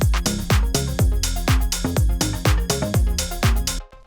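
Full drum kit pattern with kick, snare, hats and a crash splash, spread across 3D space, playing a steady driving groove for about four seconds before cutting to silence at the end.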